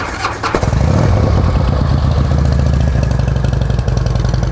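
Harley Davidson Ultra Classic FLHTCU motorcycle fires up with a short starter crank, then settles into a loud, steady, lumpy idle right up close.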